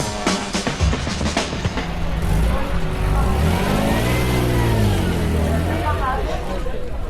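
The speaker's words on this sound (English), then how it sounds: "That was the sound of a Dino going away." A Ferrari Dino sports car engine revs and roars nearby, then its note sweeps and fades as the car pulls away into the distance.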